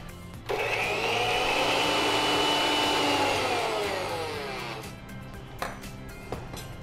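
A mixer grinder whirs loudly as it blends dry mint chutney ingredients with salt for a sandwich filling, a high steady motor whine that runs for several seconds and then winds down with a few clunks.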